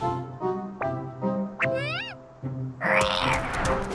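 Cartoon kitten meowing from under a porch, several short rising and falling meows in a row, fairly close, followed by a louder noisy burst.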